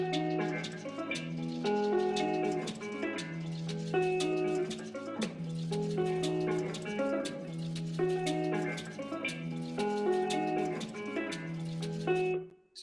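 Guitar and drum shells sweeping between left and right, looping in a steady rhythmic pattern with bright plucked tones over low sustained notes, loud and continuous with no talking.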